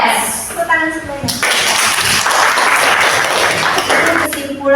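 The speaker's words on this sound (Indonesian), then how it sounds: "Tepuk tangan semuanya." A class applauds at a teacher's prompt during a school lesson, dense clapping that swells in after a brief voice and holds steadily, with speech returning at the end.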